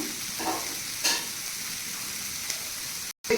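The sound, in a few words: vegetables with broccoli sautéing in a pan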